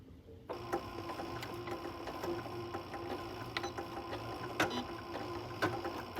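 A sewing machine stitching a quarter-inch pillowcase seam and back tacking, a steady close mechanical whir with fast needle clatter running throughout after a brief quiet start.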